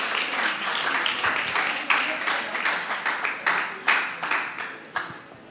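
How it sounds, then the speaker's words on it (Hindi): Loud applause from an audience at a talk session, sustained clapping with several sharper bursts swelling and fading across the clip, close and steady without any speech over it. "इन सभी भाई बहनों के लिए जोरदार तालियां."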